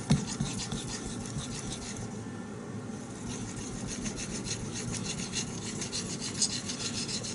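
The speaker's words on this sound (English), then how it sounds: "This small sharpening tool makes this sharpening very easy." Steady back-and-forth rasping of a Bark River knife's A2 steel blade against a small sharpening tool, continuous close strokes with no talk.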